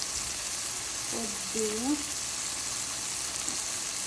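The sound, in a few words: spices frying in hot oil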